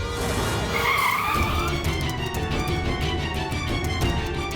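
A car skids to a halt with a loud tire squeal on the road, the screech running several seconds close up over engine noise.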